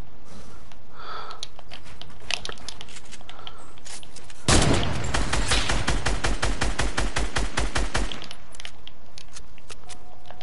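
Rapid automatic gunfire from a video game shooting match, a fast loud burst of evenly spaced shots lasting a few seconds and then stopping, set against quieter game ambience.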